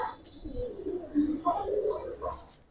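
Giribaz pigeon, a boot-beaked bird, cooing softly in a series of low throaty coos close by, with faint background voices and rustling.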